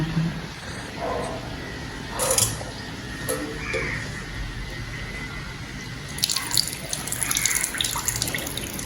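Tubs are washed with soap and running water, with faucet flow, splashing and scrubbing heard close by. Bursts of splashing rise and fall, and a dog may bark faintly in the background.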